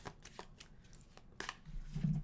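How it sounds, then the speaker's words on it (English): Tarot cards riffle in several quick, soft shuffling bursts, close and quiet, with no talking. "And give it a fast shuffle"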